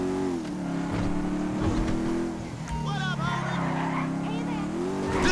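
Heavy motorcycle engine in GTA 5, a loud droning rev that rises and falls steadily throughout, with rapid pitch shifts and a brief whine midway while people talk over it.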